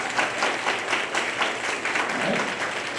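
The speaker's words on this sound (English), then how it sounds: "clap, clap, clap, everybody" An audience at a junior leadership cadet awards ceremony claps steadily and fairly loudly for about three seconds, a dense, even patter of many hands with no voices over it.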